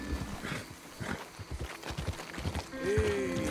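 Horse hooves in Red Dead Redemption 2 clopping in a steady rhythm as the horse heads toward a swamp in bad weather, set against rain and ambient game sound, with a brief whinny-like tone near the end.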